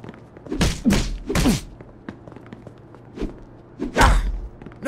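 Punches land in a Mafia 2 fistfight as heavy thuds and whooshing swings, about four or five separate impacts with grunts, set against a quiet ambient hum.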